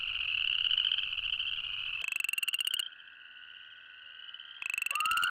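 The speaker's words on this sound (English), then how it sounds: "it's the tiny chorus frog," A tiny chorus frog calls up close, a loud rising trill made of rapid pulses that alternates with smoother, steadier notes and stands alone against a faint background.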